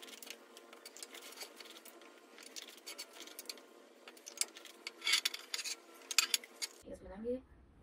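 A spoon scrapes and taps against a bowl while hair mask powders are mixed, producing irregular clinks and rubbing scrapes, close and fairly quiet, ending with a brief indistinct sound.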